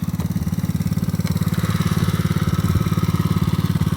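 A Gio 110cc ATV, based on the Polaris 90, runs with a steady, loud, close, pulsing engine thrum that holds throughout.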